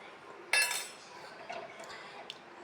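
A spoon clinks once against a cooking pot while stirring theeyal curry, a bright metallic tap followed by a couple of softer scraping knocks in a quiet kitchen.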